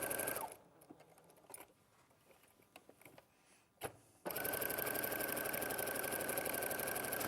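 A sewing machine stitching a wavy line on a quilt begins with faint, scattered handling clicks and rustles, then starts abruptly into a loud, steady, fast mechanical whir that holds until the end.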